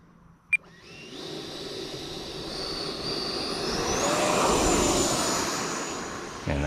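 An E-Flite 90mm Viper RC jet spools up and takes off, its electric ducted fan rising from a steady whine into a loud, swelling roar that peaks and passes close by, after a brief sharp click at the start.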